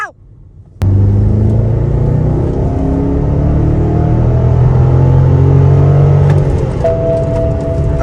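A Porsche 911 engine runs close by with a steady deep rumble after a sudden start, holding a rising droning tone that eases off slightly near the end.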